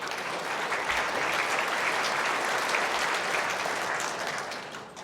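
Sustained applause from an indoor crowd at the 2014 Australian Indoor Bowls Championships women's singles final, a dense, steady clapping that holds for several seconds and then tapers off at the end.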